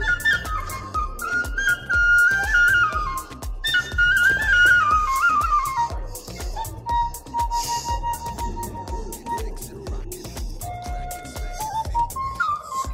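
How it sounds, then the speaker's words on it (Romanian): A man plays a fluier, a Romanian folk whistle, outdoors on a mountain plateau. It carries a loud, continuous melody of bright whistled notes that rise and fall in long phrases and dominate the scene, with no talking. "Deci fluierul care l-auzeam noi de sus de pe munte e aici"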